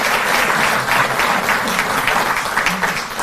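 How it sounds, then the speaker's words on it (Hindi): Steady, dense applause from a large crowd at a Delhi government event on farmer compensation, loud and continuous throughout with no pauses. "जोरदार तालियां बजें।"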